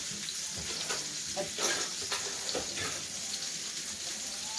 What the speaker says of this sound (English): it's going to get a good sear